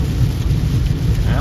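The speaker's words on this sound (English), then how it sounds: "It's also raining right now, slightly." Steady rain falls at night in a remote New Mexico spot, with a low, rolling thunder rumble running continuously underneath, close and fairly loud throughout.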